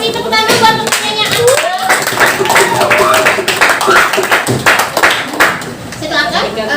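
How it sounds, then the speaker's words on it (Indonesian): Classroom students clap hands together in a busy burst of claps that runs the whole stretch, loud and close, with speech mixed in underneath. "tepuk tangan buat pertanyaan"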